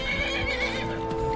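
Horse in the video game Skyrim giving a short neigh over a low steady ambient drone, with a few soft hoof clops underneath, brief and moderately close.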